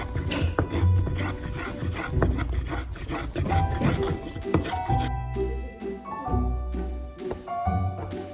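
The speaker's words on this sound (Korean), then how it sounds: "나무 토막과 뿌띠 대패 준비해주시고 원시적인 방법으로 봉을 만듭니다." A small hand plane shaves a block of wood into a round rod, making close, rasping scrape strokes in an uneven rhythm with light wooden knocks between passes.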